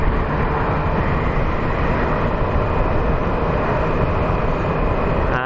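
A manual transmission motorcycle accelerates and shifts gears. The engine roars loud and constant, dense and close, with no voices.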